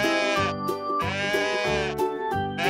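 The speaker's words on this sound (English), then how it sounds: "This is a goat." A domestic farm goat bleats in a few loud, wavering cries, close and prominent over a steady musical backing track.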